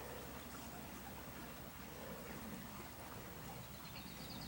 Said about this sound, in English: It's a cool little creek.